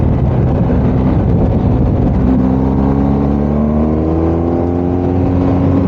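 BMW R1250GS motorcycle accelerating hard to pass another vehicle on a road, its engine note rising steadily in pitch under loud, constant wind roar.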